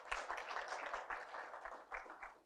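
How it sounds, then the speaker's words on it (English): Round of applause from an audience at an engineering supplier day event, a steady dense wash of clapping holding for a couple of seconds, moderately loud with no voices over it. "Can we give him another round of applause?"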